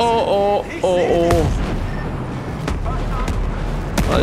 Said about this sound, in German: Die Explosion kommt ziemlich nahe.